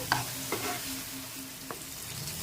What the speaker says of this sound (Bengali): এবার সব কিছু একসাথে ভালো করে মিশিয়ে নিয়ে মশলাটাকে আরও একটু নেড়ে চেড়ে কষিয়ে নিতে হবে